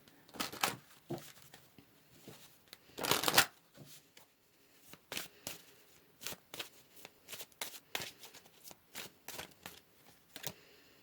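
Tarot cards are shuffled close by in a run of quick, crisp riffling bursts, one longer and louder flurry among many short ones, with no voices.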